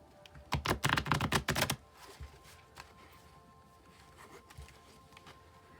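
A deck of tarot cards is shuffled up close in a quick burst of crisp riffling clicks, then settles into a few faint taps and rustles as the cards are squared.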